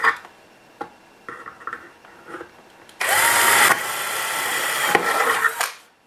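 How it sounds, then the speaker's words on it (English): A few faint taps and clicks, then a power drill whirs loudly for about three seconds, drilling a 1/4-inch hole in a large 1/10 scale model spacecraft, before spinning down. "I'm just going to drill a 1/4 inch hole right here."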